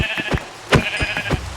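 Sheep in the video game Minecraft bleating several times in quick succession, short nasal cries with soft thuds between them, close and clear with no talk.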